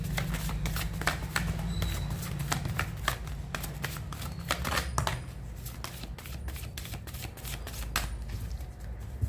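Tarot cards being shuffled by hand, a continuous near stream of riffling and flicking card snaps over a low steady background hum, sounding for the full length with no break.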